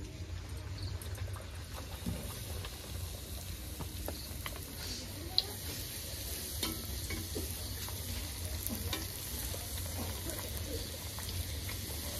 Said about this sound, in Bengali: তেল গরম হয়ে গেছে, এবার লুচিটা ভেজে নেব।